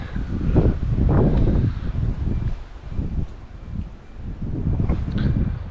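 Gusty wind in the open near a quarry, buffeting the microphone in loud rumbling surges that swell, ease off briefly, then build again.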